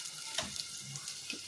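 Onion sizzles in a generous amount of olive oil in a very hot non-Teflon pan, a quiet steady crackle with faint stirring clinks, close and without talk.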